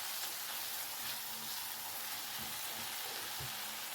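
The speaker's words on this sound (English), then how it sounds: "cook this till the raw smell of the ginger garlic goes away." Ginger garlic paste with turmeric and coriander powder frying in a pan for a tomato and fenugreek curry, a steady close sizzle with a few soft stirring scrapes and no talk.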